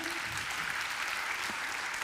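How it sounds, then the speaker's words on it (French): Applause from the audience at an agricultural awards ceremony in Côte-d'Or, a full, sustained wash of clapping that stays level throughout, with a faint voice briefly underneath. "on peut l'applaudir"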